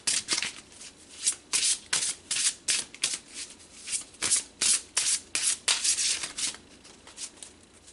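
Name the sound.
shuffling and drawing tarot cards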